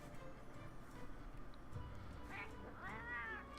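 A talking cat character meowing in the Final Fantasy XIV and Monster Hunter crossover event, two short rising meows over game background ambience, faint and close.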